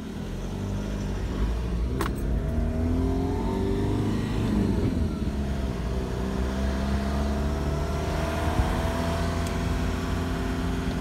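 A car climbs a bumpy hill road, engine droning steadily with a low rumble and occasional rattles and knocks from the rough surface, heard from inside with no talking.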